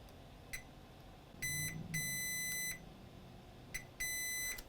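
Multimeter in diode mode on a shorted capacitor gives short high beeps, then longer continuous tones in bursts, fairly faint against quiet background hiss.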